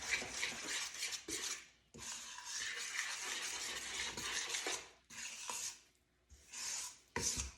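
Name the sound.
stirring bread flour into yeast mixture for pizza dough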